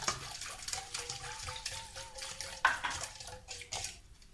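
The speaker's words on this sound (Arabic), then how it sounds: "غادي نزيد عليه نص كاس ديال الزيت" Half a cup of ordinary table oil is poured into a brioche dough mixture. A close, soft liquid pour and trickle gurgles along steadily, with a small knock partway through.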